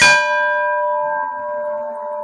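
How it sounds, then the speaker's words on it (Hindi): A temple bell is struck once, and its bright metallic ring hangs and slowly fades with a steady hum beneath it, close and fairly loud, with no voices. "एक और घंटी,"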